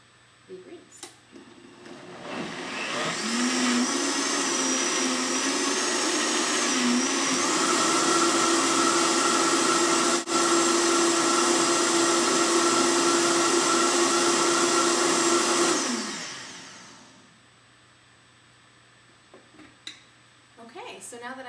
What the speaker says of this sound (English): So I'm gonna pop the top on and start it up, and I'm just gonna blend it